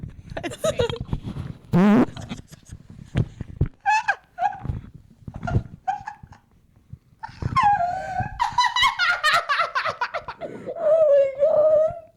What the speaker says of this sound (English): I have to fart.